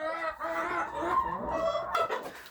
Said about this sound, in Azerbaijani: Hazırda görmüş olduğunuz kimi toyuqlarıma kələm vermişəm.